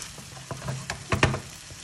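Pasta sauce with porcini mushrooms, cherry tomatoes and beans sizzles and crackles in a pan, with scattered scraping and clinking bursts as it is stirred, fairly close and moderate in volume.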